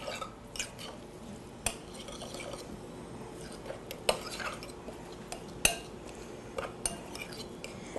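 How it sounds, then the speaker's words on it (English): A spoon stirs ingredients into a paste in a bowl, giving soft scraping and clinking against the sides. Scattered taps and knocks repeat at an uneven pace, close by and fairly quiet, with no talking. "let's stir it up and make a nice little paste"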